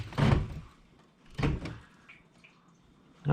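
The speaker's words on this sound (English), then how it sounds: "Maddie, go ahead and reach up there and bounce that rear suspension" The rear suspension of a lowered Honda CB500X motorcycle is pushed down and released twice, giving soft, dull thumps and faint creaks close by in a quiet room.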